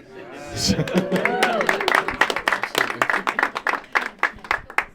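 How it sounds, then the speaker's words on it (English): Voices talk over a crowd's growing applause, a dense patter of clapping that continues after the talk fades. "let's give her a round of applause"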